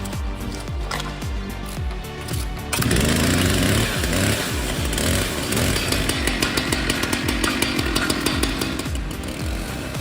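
Holzforma G888 chainsaw, 8.7 horsepower, cutting into a massive oak log: loud, close engine revving and bogging as the chain bites, continuous and aggressive throughout with pulsing strain.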